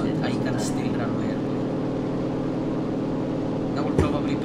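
A damaged airplane engine in a video game, with a destroyed wing. It gives a steady droning hum with a buzzy tonal rumble and a short knock near the end.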